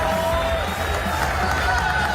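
A crowd cheers and roars in a dense, steady wash of noise, edited into a replayed video clip. The cheering stays loud and unbroken throughout, with no distinct claps or voices standing out.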